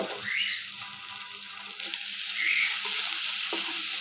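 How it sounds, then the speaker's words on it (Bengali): Small fresh river shrimp with a pinch of salt frying lightly in a pan for a bitter gourd chorchori: a steady, close hiss of sizzling oil with a few sharper spits and stirring scrapes, and no voices. "চিংড়িগুলো হালকা করে একটু ভেজে নিয়েছি"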